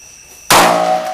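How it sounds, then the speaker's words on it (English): A Chinese firecracker explodes inside a cassette player with one loud, sharp, close bang after a quiet moment, followed by a ringing tail. "Chinese firecracker plus cassette player equals owned."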